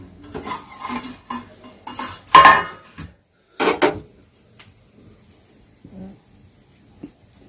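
A metal plate used as a lid clatters several times on a pot of steaming paneer momos, sharp clanks and scrapes bunched at the start, then fading to quiet with a couple of faint late knocks.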